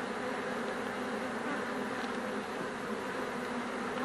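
A dense, steady buzzing hum of many honeybees in an open hive during an inspection, close and continuous without pause.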